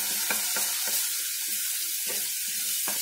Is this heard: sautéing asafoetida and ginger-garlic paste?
yes